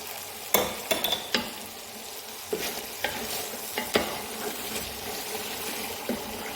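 Food sizzling in a pan for an Ethiopian kebsa rice dish with tomato salsa, with scraping stirring strokes on the pan at irregular intervals over a steady frying hiss.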